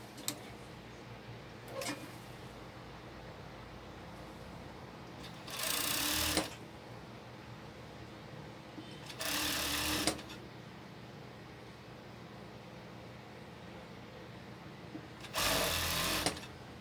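Sewing machine stitching the waistline seam of a crop top, running in three distinct bursts of steady whirring, each a second or so long, separated by quieter pauses with faint ticking.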